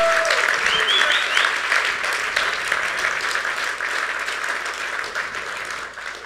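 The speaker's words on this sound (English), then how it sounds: "Oye, si vas a aplaudir, aplaude bien." A church congregation at a Monday night men's meeting claps steadily and loudly, a dense wash of hands with a few voices calling out briefly near the start, the applause thinning slightly toward the end.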